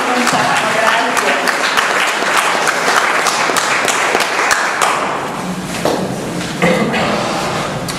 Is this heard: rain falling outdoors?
no